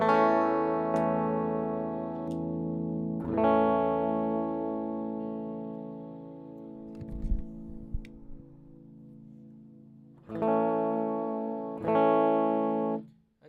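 Crunchy, distorted electric guitar through the Archetype Plini X amp plugin: sustained chords ringing out, a quieter stretch with faint picking, then two fresh strummed chords near the end, no talking.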